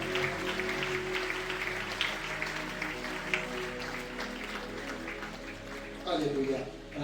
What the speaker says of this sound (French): Tu peux acclamer le Seigneur.